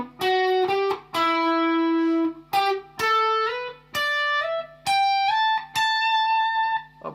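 Electric guitar plays the first line of a song's intro solo slowly, with lightly overdriven tone: a string of plucked notes, some held for a beat or more, some slid or bent, steady and unaccompanied.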